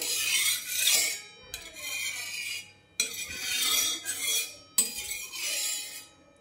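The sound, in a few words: spreading oil on a hot griddle with a utensil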